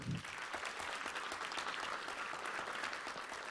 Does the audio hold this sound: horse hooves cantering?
no